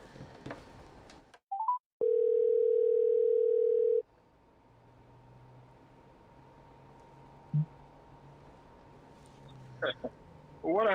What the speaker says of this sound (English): let me call Mr. Soul again and see what is it he has in mind